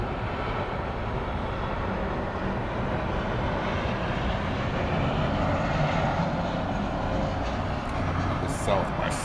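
An Alaska Airlines jet from Seattle rolls at Miami airport, its engines a constant broad roar that holds steady and fairly loud throughout with no break.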